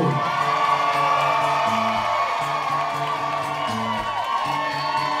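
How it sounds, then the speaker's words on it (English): A live audience at a country music show at Cadillac Ranch in Nashville breaks into loud cheering, whoops and applause, a dense roar of crowd noise that holds steady before easing slightly toward the end. "we ask you to give us a nice big round of applause"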